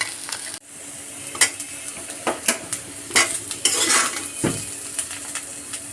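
A spatula stirring and scooping fried bitter gourd and potato bhaji out of a pan, loud repeated scrapes and metallic clinks against the pan over a low sizzle, with no talking.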